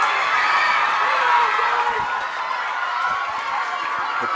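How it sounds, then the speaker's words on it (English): A dense, roaring crowd cheers and shouts continuously at an Ulster ladies' Gaelic football intermediate championship final in 2023, a steady wash of noise from spectators close all around. "The crowd going crazy around me."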